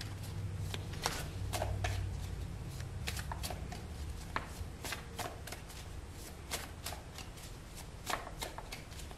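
Tarot cards are shuffled and drawn, giving quiet, close riffling with a string of sharp snaps and taps spread unevenly across several seconds.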